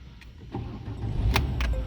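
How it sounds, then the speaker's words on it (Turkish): A Citroën car engine starts and settles into running, the low rumble rising and holding steady after a brief faint rattle. "Evet şu an araç çalışmış durumda."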